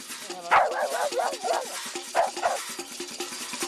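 A dog barks in several sharp bursts, with a couple of softer whimpering yips between them, fairly close and loud.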